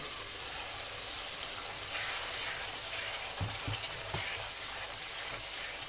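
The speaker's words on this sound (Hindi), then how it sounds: "टमाटर हमने डाली, अब हम इनको कुछ देर के लिए ऊपर से ढाँप कर पकाएंगे।" Tomatoes for fish curry cook under a lid in a pan, giving a steady soft sizzle and hiss with a few low bumps partway through, fairly quiet and with no voices.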